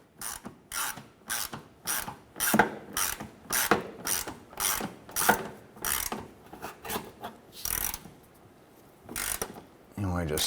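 A ratchet clicks in quick rhythmic bursts, close and crisp, tightening a screw on the header panel of a 1993-1997 Ford Ranger. A short pause comes before the last strokes.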